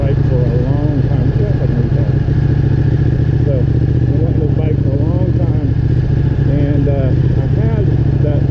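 A Ducati 1299 S motorcycle engine runs with a loud, steady low rumble throughout, while someone talks over it at close range.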